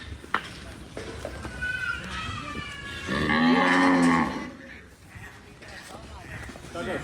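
Milking cows come in one by one from the pen to a shed, giving several close, loud moos with one long low call in the middle, while people talk over the lowing.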